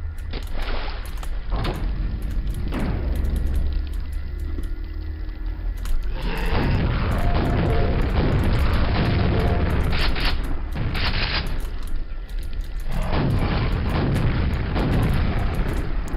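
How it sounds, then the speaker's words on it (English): Rocket launcher explosions in Quake, heavy booming blasts arriving in a few clustered bursts amid rumbling game noise, loud and close with no voices. "It's just a really good rocket launcher. It's fast, it's got large, you know, blast radius."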